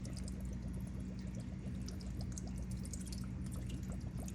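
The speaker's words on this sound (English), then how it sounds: "And then I am going to take my balsamic vinegar." Balsamic vinegar poured into a warming pan for a berry balsamic salmon sauce, a steady liquid trickle and sizzle with small drips throughout, close and continuous.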